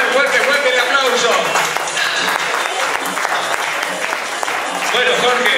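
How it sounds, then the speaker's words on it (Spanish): Audience applauds a musician as he is invited onto the stage at an awards night; dense, sustained clapping fills the space, fairly loud, with faint voices mixed in. "fuerte el aplauso"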